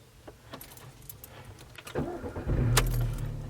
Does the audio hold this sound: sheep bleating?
no